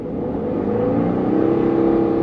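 A Wuling Almaz Hybrid pulls away on its electric motor, with a smooth, steady whine and tonal hum that rises gently in pitch as it speeds up. Tire and road rumble sit underneath, and no voices are heard.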